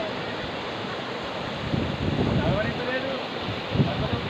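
Floodwater from the Teegala Varre stream rushes across the Salugupalli main road at Penchikalpet after morning rain, a steady broadband roar that swells louder midway, with faint voices under it.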